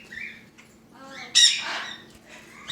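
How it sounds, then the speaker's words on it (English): Lovebirds at a bird rescue squawk in sharp bursts, with one loud, harsh squawk near the middle standing out over quieter chirps and scratchy calls. "Lovebirds."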